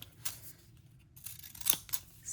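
Small decal scissors snipping paper for a gluebook, a few quiet, crisp cuts spaced irregularly, close and soft in an otherwise hushed room.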